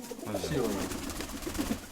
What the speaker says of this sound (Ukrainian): Ось їхній голуб